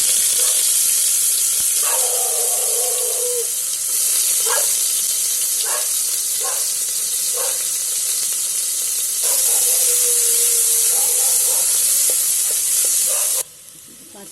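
Onions sizzle steadily in hot oil in a pot, a loud continuous hiss with clinks of stirring spoon against metal, before a fish curry with green banana; the frying cuts off sharply near the end.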